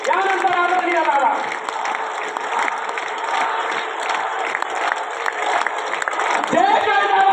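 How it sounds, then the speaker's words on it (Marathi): A crowd at a public gathering for Manoj Jarange Patil applauds steadily and densely, welcoming him. The clapping is continuous and fairly loud, and a voice rises over it at the start and near the end. "प्रचंड टाळ्या, टाळ्या 2 मिनिट टाळ्या वाजवायच्या आहेत."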